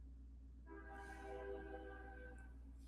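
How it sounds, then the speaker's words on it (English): A train passes close by a house, its steady low rumble joined by a sustained multi-tone horn that swells in and holds for about two seconds before easing off, with no talk. "As this train goes whizzing by the house"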